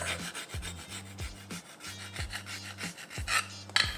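A screwdriver scrapes back and forth over a sprayed bedliner coating on a vehicle bumper, making rhythmic, close rasping strokes with brief knocks between passes.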